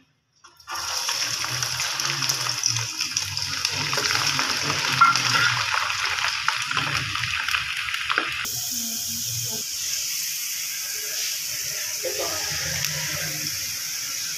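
Steady hissing sizzle of garlic frying in hot oil, continuous and fairly close, with a brief voice underneath.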